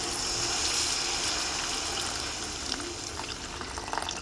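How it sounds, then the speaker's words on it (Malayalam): Tamarind water poured into a pan of frying shallots for Kerala-style ulli theeyal, a steady close splashing gush that thins out and trails off halfway through, with no voices. "നമുക്കിതിലേക്ക് പിഴുപുളി ഒഴിച്ചു കൊടുക്കാം"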